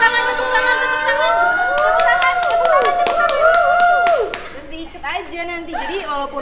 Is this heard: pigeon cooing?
no